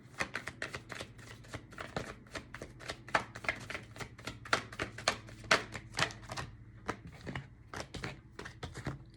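Oracle cards are shuffled by hand, giving a rapid run of crisp riffling flicks and soft slaps in an uneven rhythm, close and fairly quiet in a still room.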